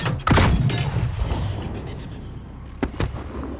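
Grenade blast in Call of Duty: Modern Warfare, a loud close boom with rumbling debris tail, followed by a sharper second crack of gunfire or explosion a few seconds later.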